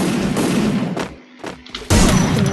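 Video game gunfire with headshot hits, loud rapid bursts of shots breaking off briefly before resuming in a heavy volley, no talk over it.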